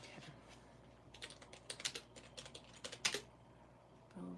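Typing on a computer keyboard, quiet irregular clusters of key clicks in a hushed room, growing busier toward the middle, with no talk.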